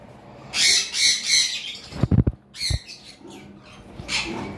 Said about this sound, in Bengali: এই দুইটা পাখি আপনাদেরকে দেখাচ্ছি।